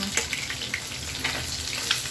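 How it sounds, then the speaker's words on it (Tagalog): Steady bubbling and sizzling from a pot of vegetables boiling on the stove, with a few sharper pops and clinks close by, and no one talking. "kumukulo na yung ating gulay"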